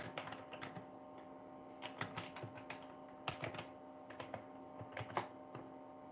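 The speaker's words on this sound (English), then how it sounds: "let me type this in here" Keystrokes on a computer keyboard tapping in irregular bursts, close and fairly quiet, with short pauses between clusters of key presses and no talking.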